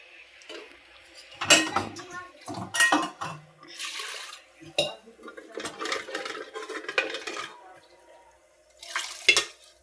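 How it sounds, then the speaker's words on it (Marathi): A pressure cooker is washed at a sink, with irregular clanks and scrapes of metal and bursts of running water, close and intermittent over about ten seconds. "कुकर पण धुवून टाकायचं बघा."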